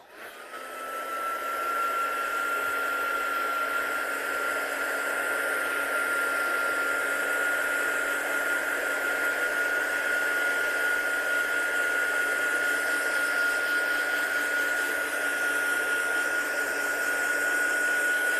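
A heat gun dries ink on a stamped card with a loud, steady blowing whir and a high-pitched motor whine, starting up and then running continuously at close range.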